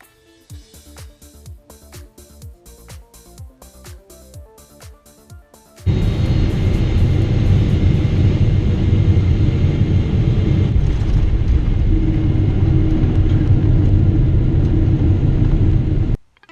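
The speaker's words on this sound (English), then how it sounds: "we're lined up to land in Bangkok" A Thai Airways Boeing 777-300 airliner landing in Bangkok, heard from inside the cabin: a quiet stretch of rhythmic thuds gives way to a loud, sustained low roar and rumble that holds for about ten seconds before cutting off.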